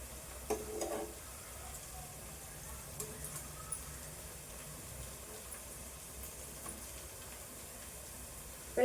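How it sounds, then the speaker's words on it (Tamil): An egg fries in a pan with masala, giving a soft, steady sizzle that stays quiet and even throughout, with a few faint ticks and no talking. "இப்போ இந்த முட்டை இந்த சைடு ஃப்ரை ஆகிட்டு இருக்குங்க"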